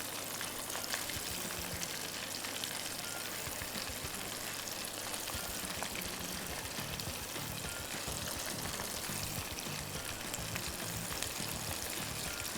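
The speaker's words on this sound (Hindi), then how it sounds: "थोड़ा सा इसको डस्ट करेंगे और फिर फ्राई करने के लिए ऑयल के अंदर" Breaded chicken strips fry in hot oil, a continuous close crackle and hiss with scattered pops and spatters, steady throughout and with no voices.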